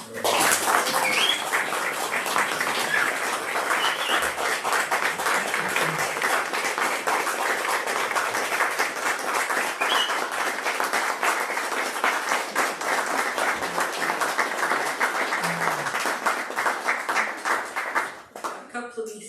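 Sustained audience applause fills a Scottish literary event hall, dense and steady for nearly the whole stretch with scattered cheers and voices mixed in, tapering off at the very end.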